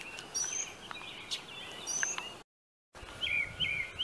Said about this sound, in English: can you hear all these birds? Like, they're like going nuts.